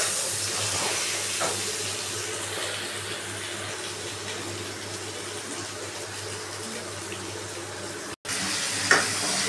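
Ridge gourd frying with whole cumin in a pan, a steady hissing sizzle with faint stirring scrapes, continuous and moderately loud with no talk.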